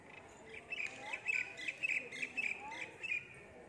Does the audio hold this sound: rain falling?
no